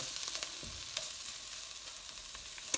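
Spices and onion fry in a pan for biryani rice, a soft, even sizzle with faint crackles and no voices.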